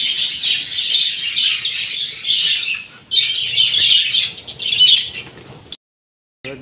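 Budgies in a breeding colony cage chirp and chatter in a dense, continuous, high-pitched flock sound close by, pausing briefly mid-way and cutting off abruptly near the end.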